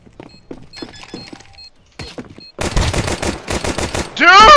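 Counter-Strike 2 video game gunfire: sparse scattered shots and clicks at first, then a sustained loud burst of rapid automatic fire, ending in a ringing metallic impact, all close and punchy.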